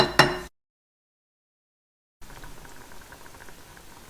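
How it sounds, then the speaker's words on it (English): Relish simmering in a pan, a soft, steady bubbling and crackling patter that fills the last two seconds after a short loud burst and a silent gap. "we're going to simmer this until we get to a nice reduction, which is nice and thick"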